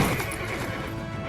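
A horse in Assassin's Creed Brotherhood lets out a single loud, close neigh lasting about a second, with no speech around it.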